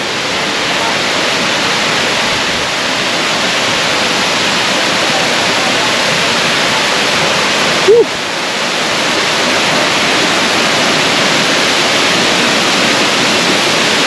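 Waterfall near a hillside campsite in Bataan pours in a steady, loud broadband rush for the whole stretch, with one brief knock partway through; no one talks over it.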